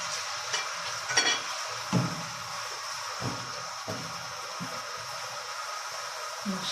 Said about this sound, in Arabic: ودلوقتي هنعمل الطشه بتاعتنا، طشه العدس بتتعمل بالزيت.